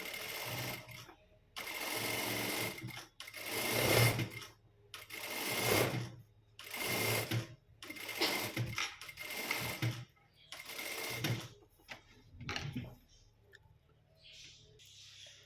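A sewing machine stitching along garment lining runs in repeated bursts of rapid mechanical whirring, each lasting about a second, separated by short pauses.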